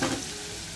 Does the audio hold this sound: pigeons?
no